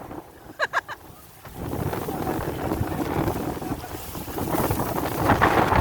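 Strong wind roars and buffets the microphone for several seconds, rising in gusts after a few brief knocking sounds at the start.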